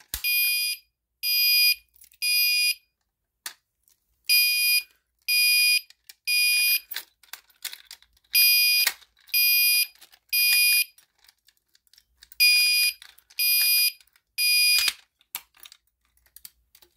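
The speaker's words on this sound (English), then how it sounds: "I'm going to go ahead and pull the fire alarm, and the horn and the strobe will go off" A Gentex Commander 3 fire alarm horn, set off from a Simplex break-glass pull station, blasts in loud, close groups of three piercing bursts that repeat in a steady temporal pattern, with light clicks and rattles between the groups.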